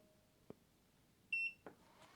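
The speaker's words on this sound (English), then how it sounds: "You will hear a beep." Fossibot F2400 portable power station gives a single short electronic beep at power-on, quiet and close, framed by faint button clicks in an otherwise silent room.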